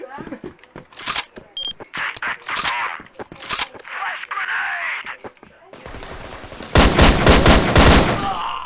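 Rapid bursts of gunfire ring out in a CrossFire clan war match, sharp shots stacking into busy volleys that grow denser and louder toward the end, with players talking over the action.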